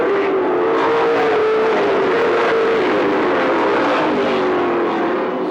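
Late model race cars roar around an oval track two laps before a 100-lap feature, engines droning loudly and continuously with shifting pitch as the pack passes, with no talk.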